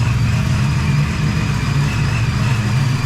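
A car engine idles through a full 3-inch aluminum exhaust with no mufflers, a loud, close, steady low burble with a raspy edge and no talk.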